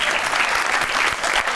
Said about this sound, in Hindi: कासिम अली शाह साहब के लिए तालियां